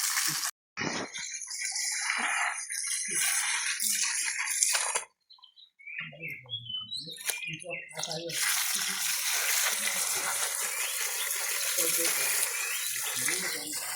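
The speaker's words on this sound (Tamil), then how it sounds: "அதை பிரித்து எடுக்கிறத விட மண் நிறையா இருக்குது, கழுவிடுறேன்." Water gushes and splashes as soil is rinsed off, loud running water with a short break partway through and uneven splashing after. A person speaks over it in places.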